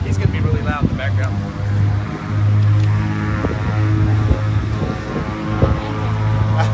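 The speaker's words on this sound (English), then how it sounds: "I like the sound of the engine though." Droning propeller aircraft engine hum with steady low tones, continuous and close, with people talking over it.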